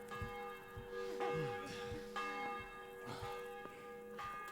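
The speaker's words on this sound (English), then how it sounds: "You never seen that bell?" A church-style bell tolls in the Inspector Gadget video game, several resonant strikes spaced about a second apart, each ringing on with a long hum beneath faint game sounds.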